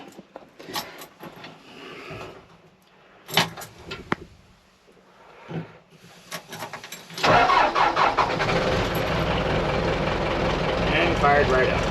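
A Case 580 SE backhoe diesel engine being started on a warm day: key jingles and clicks, a couple of cranking bursts, then the engine catches near the midpoint and settles into a loud, steady idle.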